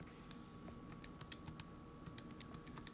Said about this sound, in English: You can probably hear me clicking on my calculator.